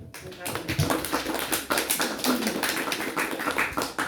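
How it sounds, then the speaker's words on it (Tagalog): A church congregation claps enthusiastically after a sermon, a dense burst of many hands rising and continuing for several seconds, with voices mixed in. "Bigyan natin ng masigasig na palakpak."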